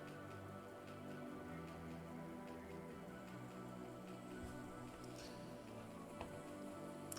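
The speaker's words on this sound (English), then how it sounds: "oh, it's raining outside" Steady rain falling outdoors, a soft continuous patter with scattered drops, heard faintly and evenly throughout with no talking.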